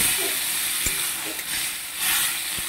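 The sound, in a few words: water poured into sizzling chana masala pan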